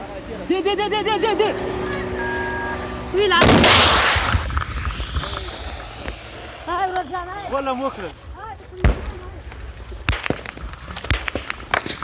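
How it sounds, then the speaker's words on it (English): Police return fire from a moving vehicle during fighting in Afghanistan, with a loud burst of gunshots followed by scattered sharper cracks amid vehicle noise, while several people talk and shout throughout. "the police shoot back as they continue driving north"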